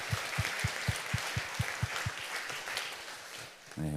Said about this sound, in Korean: 우리 다 함께 하나님께 감사와 영광의 박수를 올려드리겠습니다